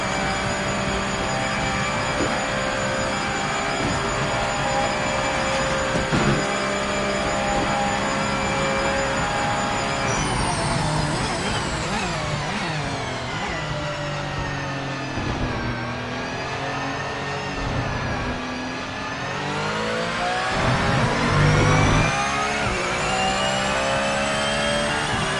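A Porsche 992 race car engine in the Project Motor Racing video game roars continuously, revving up and down through gear changes with a steady high-pitched whine, loud and close, with no talk.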